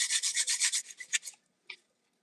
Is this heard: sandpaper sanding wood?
yes